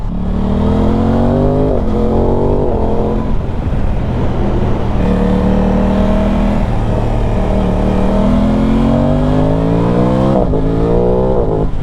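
A 2025 Aprilia Tuono V4 engine heard from the saddle while riding, loud and close, revving up through the gears in repeated rising sweeps with brief dips at each shift, over constant wind and road noise.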